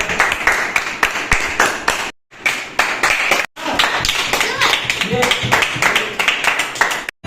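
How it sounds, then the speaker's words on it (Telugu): A small group claps in quick bursts, loud and close, with brief gaps between rounds of applause at a mock felicitation in a comic skit. "క్లాప్ కొట్టడం"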